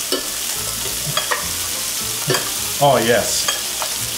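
A burger sizzles steadily in a buttered pan, a continuous frying hiss with occasional stirring and scraping noises, while a voice briefly speaks near the end.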